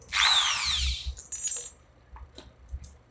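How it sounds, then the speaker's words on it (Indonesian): A power drill with a fitted bit spins up in a sharp, loud whine that quickly fades, followed by a few faint clicks and knocks nearby. "Ini sepertinya kita langsung bor saja, kita tembusin ke sini sampai ke bawahnya, tembus pakai mata bor ini sudah saya pasang"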